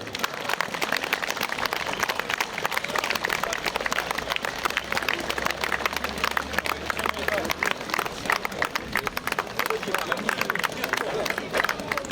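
A football crowd at a veterans' match of Dynamo Kyiv in Novyi Buh applauds as teams walk onto the pitch, dense continuous clapping and crowd noise mixed with babble, loud and sustained throughout.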